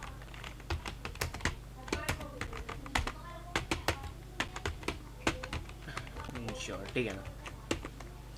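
Rapid clattering keystrokes on a computer keyboard as C code is typed, in uneven bursts of close, crisp taps, with someone speaking Hindi between and over them.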